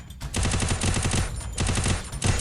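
Rapid automatic bursts from a UMP submachine gun in the mobile shooter Free Fire, loud and close, two sustained volleys split by a brief gap with no talk.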